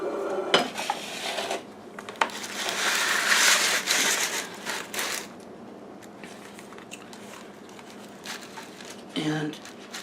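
Plant pots, including a drilled dollar-store pot, clatter and scrape close by during indoor repotting, with irregular knocks and rustling bursts that taper into quieter handling.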